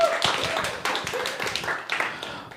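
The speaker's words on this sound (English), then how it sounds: "Another round of applause for Jen Frankel." An open mic audience claps for a performer: scattered, fairly quiet hand claps with uneven rhythm, some individual claps standing out, and faint voices mixed in.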